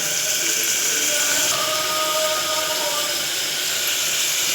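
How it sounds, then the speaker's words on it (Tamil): Onions sauté in a pan for tomato sambar, a constant, fairly loud sizzling hiss that holds steady from start to finish with no voices. "ஆனியன் வதங்கிட்டுருக்கு"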